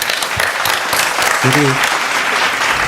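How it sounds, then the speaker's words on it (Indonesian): Audience applause at a talk on loving and valuing one's profession, steady dense clapping across the whole stretch with a brief spoken word from a man over it. "Tepuk tangan dong teman-teman."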